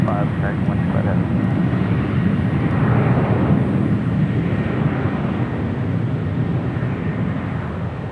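A Boeing 777-300ER airliner taxiing at LAX gives off a continuous low jet-engine rumble and whine, moderately loud and steady, with a voice talking over it throughout.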